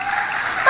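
Audience applause during a sermon, a short burst of steady clapping from a congregation.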